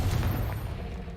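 A Confringo blasting spell fired in Hogwarts Legacy lets out a faint, low rumbling burst that slowly fades away, with no voices over it.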